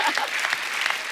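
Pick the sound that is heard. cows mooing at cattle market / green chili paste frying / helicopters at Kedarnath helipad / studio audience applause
studio audience applause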